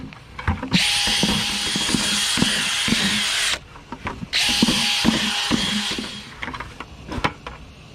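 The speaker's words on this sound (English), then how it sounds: "we're going to drill a bunch of holes in here and cut the top out." Power drill boring holes into a plastic drywell pit, two long loud bursts of whining drilling with brief pauses between, the bit grinding through the plastic, and clunks of handling around it.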